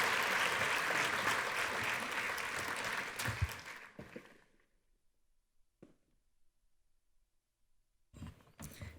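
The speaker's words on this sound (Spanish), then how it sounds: "los despedimos con un fuerte aplauso" Audience applause closing a peace-dialogue panel, a dense clapping wash for about four seconds that thins and fades to near silence, with a brief sharper burst returning at the very end.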